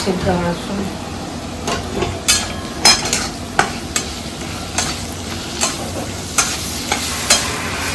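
Spices frying in a pan for a banana-flower dish, a low sizzle beneath repeated sharp scrapes and taps of a spatula against the pan at an uneven rhythm, close and fairly loud.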